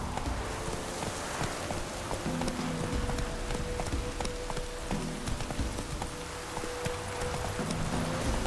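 Hoofbeats of Geralt's horse Roach in Witcher 3 thud in a steady, continuous clip-clop over a dense game soundscape with rain-like hiss and low music tones, carrying through the whole stretch without talk.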